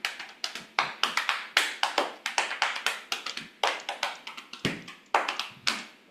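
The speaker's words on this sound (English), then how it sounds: "You can clap your hands" Bare hands clap as body percussion in a lively rhythmic pattern, with sharp close claps in quick bursts and brief pauses between phrases, heard alone.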